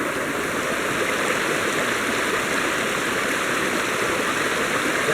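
A river waterfall pours steadily, its broadband rushing water loud and close throughout with no breaks and no voices.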